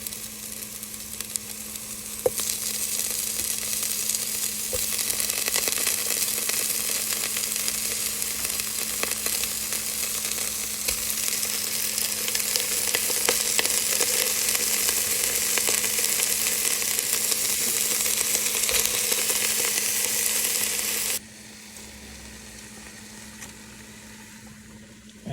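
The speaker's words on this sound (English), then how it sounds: "So we're gonna start putting the pork and start rendering it." Marinated pork hits a hot pan and sizzles loudly and steadily as its fat renders for a Filipino pork and chicken adobo, the hiss holding for about twenty seconds before dropping abruptly to a quieter simmer.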